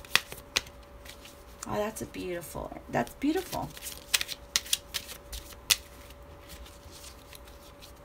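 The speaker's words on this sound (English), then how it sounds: "I had to shuffle while I was doing it" Tarot cards are riffled and shuffled in quick crisp bursts, followed by scattered sharp flicks, while someone speaks softly between them.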